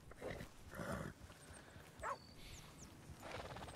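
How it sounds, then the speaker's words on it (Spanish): A dog barks in Red Dead Redemption 2, a few short separate yelps over a steady game background with ambient noise. "Hay un perro."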